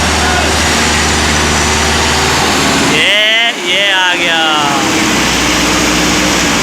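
A tractor engine drones steadily while pulling a trolley, a loud continuous low rumble with a voice speaking briefly over it midway.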